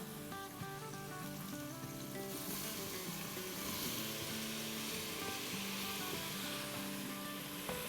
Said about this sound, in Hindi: टोमेटोज़ के साथ 2 मिनट सौटे करेंगे